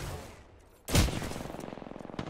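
Gunfire in the video game Apex Legends: a loud close burst hits suddenly, followed by a rapid, evenly spaced rattle of automatic shots that continues to the end.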